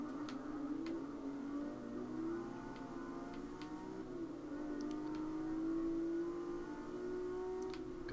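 A race car's engine revs and accelerates in Forza Motorsport 6, a steady droning whine that rises and holds, heard alone without voices.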